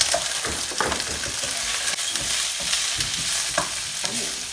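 Mange tout hitting a hot pan in a chicken and prawn stir fry, a loud, close, continuous sizzle with scraping stirs and clatters throughout.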